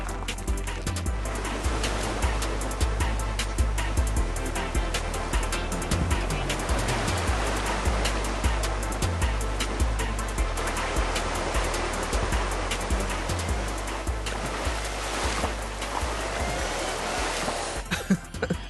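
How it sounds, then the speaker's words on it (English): A Renault Duster SUV fords a river with a current, water rushing and churning around it in a loud, continuous wash. A low engine drone sits underneath, and there is no talking. "the Duster too makes the river crossing look easy"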